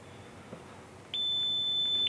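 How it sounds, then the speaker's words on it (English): Faint background hiss, then a single steady high-pitched electronic beep from Orqa One FPV goggles starting up, holding for about a second. "Once it gets past the initial startup and the load screen of Orqa, you'll hear another set of beeps."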